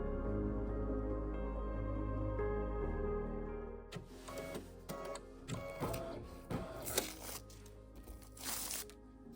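A sewing machine stitching down tape on a fabric zipper pouch, first a steady motor hum, then a rapid run of clattering needle strokes in short uneven bursts.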